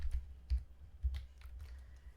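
Python code typed on a computer keyboard, soft close key clicks in short irregular bursts with no talking.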